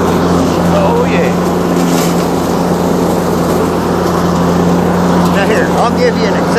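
A $1,700 brush hog mower engine runs loud and steady at close range, a constant droning rumble that persists throughout.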